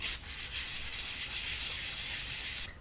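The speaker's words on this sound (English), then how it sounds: "you may want to use the sandpaper to remove any sharp edges." Sandpaper rubs back and forth across the freshly cut end of a tent pole, a steady close scratchy hiss that continues evenly for a few seconds and then stops abruptly.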